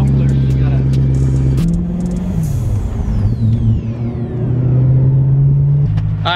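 A BMW E46 car with a loud exhaust rumbles and revs close by, its deep engine drone shifting pitch in steps, with no talking heard.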